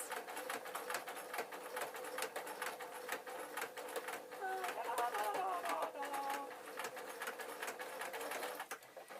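A sewing machine runs steadily while stitching a peg bag, its rapid mechanical whir continuous throughout, with pigeons cooing faintly nearby and a voice speaking briefly over it.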